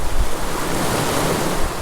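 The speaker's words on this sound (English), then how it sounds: "Oh, and there's that wind." Wind blows at a mountain creek during fly fishing, a loud, close, blustery roar buffeting the microphone that drowns out other sounds, with no talking.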